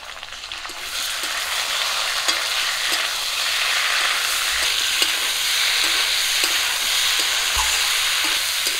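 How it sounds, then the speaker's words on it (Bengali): Papaya and potatoes fry with ginger, cumin and garlic paste, a constant close sizzle with occasional knocks and scrapes of stirring, no voices over it. "আদা জিরা আর রসুন বাটাটা দিয়ে পেঁপে আর আলুগুলো একটু ভেজে নিয়েছি"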